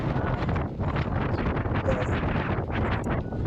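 Strong seaside wind at Šibenik, Croatia buffets the microphone in a steady, loud roar that masks everything else.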